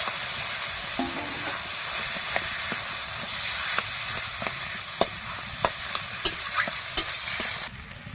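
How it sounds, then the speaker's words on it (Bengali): Boiled potatoes stirred into a cooked spice masala in a hot pan, giving a steady close sizzle with repeated sharp scrapes and clacks of a spatula through the mixture, no voices. "মশলাটা কষা হয়ে গেছে, এবার আমি এই সেদ্ধ আলুটা এর মধ্যে দিয়ে দেব।"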